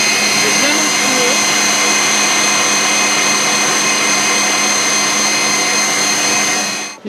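An electric mixer blends a coffee ice cream mixture with a steady, loud, continuous motor whir that holds unbroken for about seven seconds before cutting off at the end.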